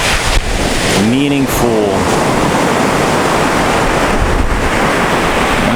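Loud, continuous surf from big waves on an open ocean beach, a dense roar mixed with heavy wind buffeting the microphone, while someone speaks briefly over it.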